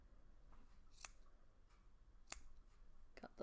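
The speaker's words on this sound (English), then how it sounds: "cut the loop there and cut the loop there" Scissors snip through short loops of crochet yarn wrapped around the fingers, a few quiet, sharp cuts spaced apart in a soft room.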